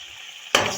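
Four or five small green chillies drop into hot oil in a cooking pan, and after half a second of near silence a sudden loud, close sizzle bursts up and keeps crackling.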